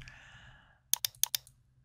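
A burst of quick keystrokes on a computer keyboard, about five crisp clicks close to the microphone after a brief faint sound, with no talking over them.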